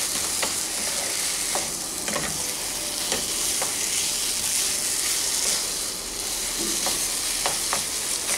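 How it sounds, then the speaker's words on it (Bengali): Boiled potato and semolina are mixed in a pan with a spoon, giving repeated scraping stirs over a continuous sizzling hiss, close and steady, with no talking. "ভালো করে আলুর সাথে সুজিটা মিশিয়ে নিচ্ছি।"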